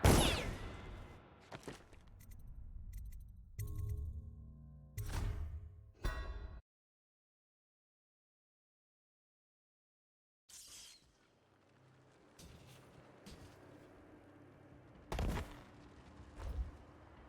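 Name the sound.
guards firing guns in Dishonored video game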